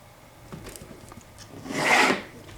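Craft paper around a piece of artwork is trimmed with a single short rasping cut that swells and fades, preceded by faint handling scrapes, close and quiet with no talking.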